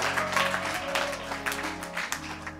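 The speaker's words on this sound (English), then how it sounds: "We clap our hands and give you praise for Jesus" Church congregation clapping hands in praise during a worship service, a scattered burst of applause of moderate loudness mixed with low sustained organ or keyboard tones.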